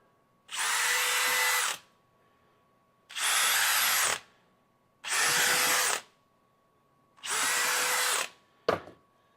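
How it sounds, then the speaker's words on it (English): A power drill whirs in four steady bursts of about a second each, drilling holes in a zero-turn mower tire, with short pauses between, close and loud. "we're going to take a drill bit, drill a few holes in it"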